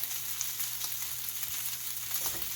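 Garlic fried rice sizzling in hot oil while being stirred in a pan, a steady bright crackle with soft scraping bursts, close by and continuous, with no voices.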